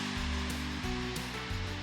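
Big surf breaks on the North Shore of Oahu, a dense, continuous roar of crashing waves heard up close and loud, with a low rumble throughout and no voices.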